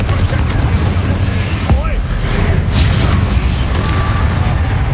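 Confringo blasting spells in Hogwarts Legacy burst into a run of loud, booming explosions over continuous game noise, with a voice talking through it.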